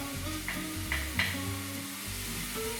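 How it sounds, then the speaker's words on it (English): Steady sizzling of chorizo and chilli frying in a pan for risotto, a constant crackle with a few brief scraping clinks; no talking. "So you can hear that's frying away."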